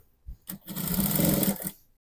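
A sewing machine runs a short burst stitching a half-inch hem on a trending kimono blouse, a couple of brief taps and then about a second of close, steady whirring before it stops into silence.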